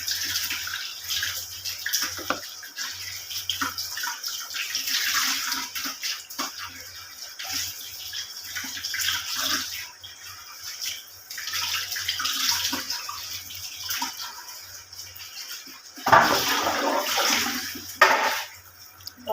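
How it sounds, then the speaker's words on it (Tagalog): Water runs steadily from a tap while something is washed by hand, a continuous near splashing rush with brief surges and bursts of heavier splashing toward the end. "Hugasan ko natin ng maigi para hindi amoy lang."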